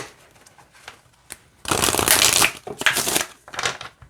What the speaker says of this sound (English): So I'll show you how they shuffle.